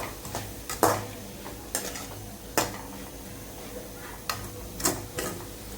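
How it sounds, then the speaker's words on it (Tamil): Drumstick leaves with grated coconut are stir-fried in a pan: a metal spoon scrapes and clanks against the pan in spaced strokes over a soft sizzle. The cooking stays close and fairly quiet. "போட்டு ஒரு 4 பரட்டி எடுத்தோம்னா சூப்பராக தேங்காய் பூ முருங்கைக்கீரை வந்து நமக்கு ரெடி ஆகிடும்."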